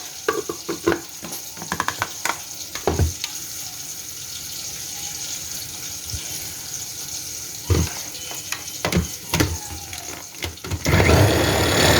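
Oil sizzles steadily as eggplants fry in a pan, with intermittent clatters and stirring knocks, ending in a louder burst of sizzling.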